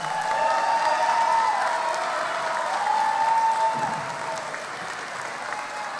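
Graduates at the Kishwaukee College spring commencement ceremony applaud their families and friends: a broad, sustained wash of clapping from a large crowd in a hall, with a faint tonal hum beneath it, easing slightly toward the end.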